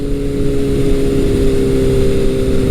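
A 1981 Kawasaki KZ1000 motorcycle with a Delkevic exhaust, full baffle fitted, runs close by in a steady, loud, deep-toned hum that holds even throughout without any clear rev rise or pause.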